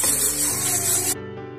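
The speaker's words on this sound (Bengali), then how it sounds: "এবারে একটু স্টার করতে হবে।" Ghugni, a dried pea curry, being stirred in a pan, giving a steady scraping, rubbing sound that stops abruptly near the end and leaves a quieter tail.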